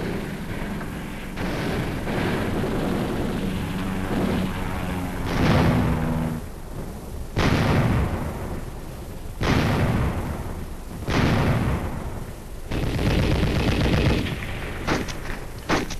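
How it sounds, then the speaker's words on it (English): Korean War aerial attack as aircraft bomb, strafe and fire rockets, heard as repeated loud explosions and bursts of gunfire in waves, with heavy rumbling blasts roughly every two to three seconds. "Again and again, the aircraft came in to hit with bombs,"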